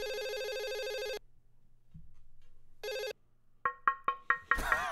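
An electronic telephone ring in two long bursts with a gap between, followed by a series of short chiming tones, no voices.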